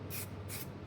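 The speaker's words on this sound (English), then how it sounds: "we're gonna spray this stuff. This helps it stick. It's an adhesive promoter." Adhesion promoter sprayed from an aerosol can onto a metal piece before gold paint, two short hissing bursts separated by a brief pause, close and fairly loud over a steady low hum.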